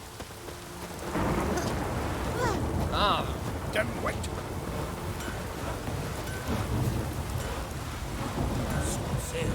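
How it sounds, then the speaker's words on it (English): Steady rain and rolling thunder from a storm in the video game The Witcher 3: Wild Hunt, a continuous downpour that swells after the first second, with a few spoken lines over it. "It's raining."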